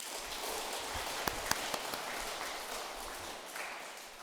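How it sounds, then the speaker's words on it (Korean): An audience at a Buddhist temple dharma service applauds, a continuous rain-like patter of many hands clapping, steady and moderately distant, with a few louder individual claps near the start. "박수 쳐주세요."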